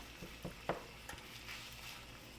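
Minced onions start browning in a pan with a faint, steady sizzle, a few soft utensil taps and scrapes rising briefly above the low frying hiss.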